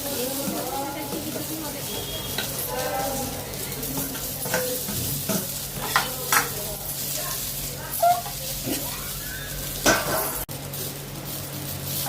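Chili thecha and tomatoes fry in a pan with a steady sizzle and occasional scraping stirs, while someone talks over the cooking throughout.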